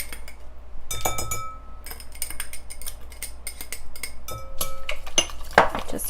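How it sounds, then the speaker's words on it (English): A whisk clinks and taps rapidly against a bowl while plain yogurt is beaten into strawberry fritter batter, bursts of bright metallic chinks in an uneven rhythm, close and loud with no talk. "Just whisk that in there."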